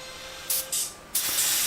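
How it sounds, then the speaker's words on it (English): Short bursts of aerosol spray hiss as finish is sprayed onto a wenge wood jewelry box, three blasts in quick succession, the last one sustained and loud, close to the listener. "And spraying it up."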